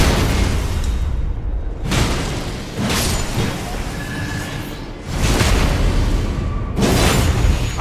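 Cannon Man enemies firing cannons in Elden Ring, several loud booming blasts spaced a second or two apart, each trailing off into a rumbling roar with game ambience in between.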